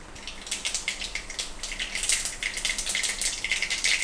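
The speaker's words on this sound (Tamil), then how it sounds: "கொஞ்சம் எண்ணெய் ஊற்றிக்கலாம்." Oil being poured into a hot pan with mustard seeds and urad dal for Tamil-style okra pachadi, giving a steady close hiss with fine crackling spatters and no talk.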